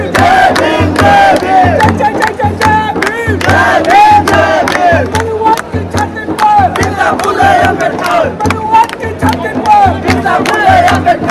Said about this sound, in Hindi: काफ़ी भीड़ है।